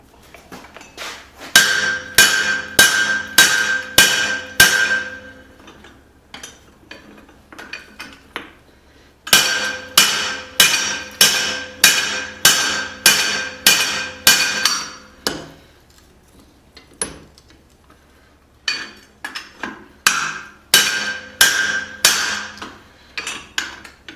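Steady bursts of ringing hammer blows on hot steel while forging a small cross peen hammer, rapid rhythmic strikes in three clusters separated by brief pauses, loud and close.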